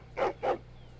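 Two quick, close barks from a hound in the video game Dragon Age: Origins, evenly spaced and alone over a faint low background hum.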